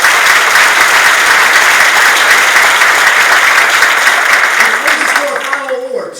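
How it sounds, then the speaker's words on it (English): A loud, dense round of audience applause fills an awards ceremony hall, steady throughout before thinning and fading near the end as a voice begins to come through. "Please give these folks a round of applause."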